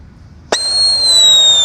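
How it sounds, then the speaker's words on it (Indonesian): A Blackbuster firecracker lit inside a hole in the ground goes off with one sharp loud bang, followed at once by a sustained high whistling tone that holds steady to the end. "Lanjut di sini ada Blackbuster. Kita nyalakan di dalam tanah"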